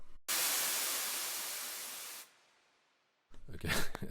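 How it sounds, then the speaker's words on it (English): White noise effect from the Strobe synth, a loud broadband hiss that cuts in abruptly, holds for about two seconds while slowly fading, then stops dead before other sounds enter. "Got this white noise effects. I think that was from a synth called Strobe."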